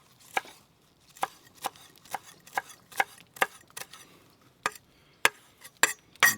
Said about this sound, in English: I'm going to use this chopping block for the parsley though.